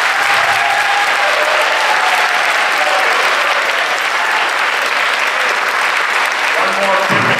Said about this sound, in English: just one more round of applause to all three of our guests